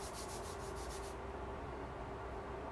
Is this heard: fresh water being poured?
no